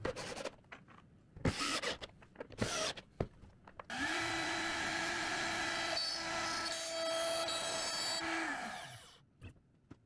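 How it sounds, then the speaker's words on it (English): A CNC router with a 4mm end mill cuts a channel into a wooden acoustic guitar bridge, a loud steady whining drone held for several seconds after a run of separate knocks and clatters. "use a 4mm end mill to route out the channel"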